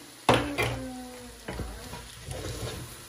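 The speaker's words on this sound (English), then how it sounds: "And then we stir again." Swahili-style Mombasa pilau with bones stirred in a pot, a couple of sharp spoon knocks against the pot followed by scraping and a low sizzle, close and short, no talking.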